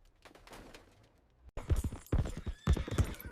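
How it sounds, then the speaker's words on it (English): Horse hooves clop in a quick, loud burst with whinnying at a street collision between a car and a horse-drawn carriage in Cleveland, starting faint and then growing close and intense with sharp, irregular hoofbeats. "The horse panicked"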